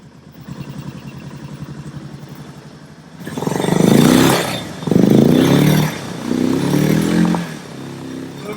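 A Suzuki DR650 motorcycle engine fires up after a few seconds of low rumble and runs loudly up close, surging and dipping in uneven bursts as the throttle rises and falls, with no talk.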